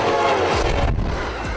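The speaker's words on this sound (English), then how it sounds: "Long distance train. A train service designed to cover significant distances, connecting cities and regions." A long-distance train rumbles past up close, its horn blaring loud and sustained over the heavy rolling noise of the cars.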